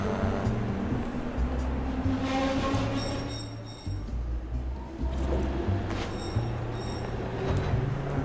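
Train pulling into a platform inside the video game Duet Night Abyss, a steady rumbling rail roll with low tonal hum and faint chime-like tones, continuous and fairly loud for the whole stretch with no talk over it.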